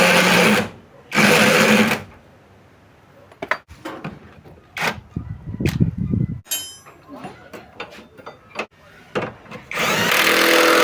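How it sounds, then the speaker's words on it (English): A power tool tightens bolts on the truss rods and knuckle of a Toyota Highlander's suspension, giving loud bursts of whirring and rattling separated by clanks, taps and shop noise. "Now tighten all the bolts holding the truss rods to the knuckle."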